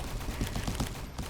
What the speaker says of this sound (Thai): M249 มันเป็นปืนกลนะครับ แมชชีนกัน